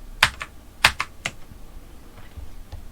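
Alt and Delete keys pressed on a computer keyboard give a few crisp, close clicks in a quick cluster, followed by fainter taps in an otherwise quiet room.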